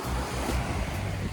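Waves wash onto a beach shore in a continuous loud roar of surf mixed with wind buffeting the microphone, with no voices.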